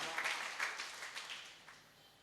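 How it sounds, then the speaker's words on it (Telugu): A church congregation claps during a worship service, a dense burst of applause that starts loud and gradually thins and fades over a couple of seconds. "గట్టిగా చప్పట్లు కొడుతూ ప్రభువును మనమందరము అభినందిద్దాం"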